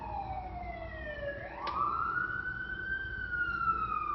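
A single emergency vehicle siren wails, its pitch slowly falling, then sweeping back up and holding high, loud and continuous over faint road noise.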